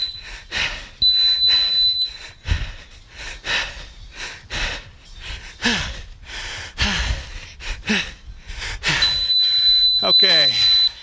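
Workout interval timer beeping during a HIIT session: two bursts of steady high-pitched electronic tones, one near the start and one near the end, ringing out over heavy breathing and movement noise.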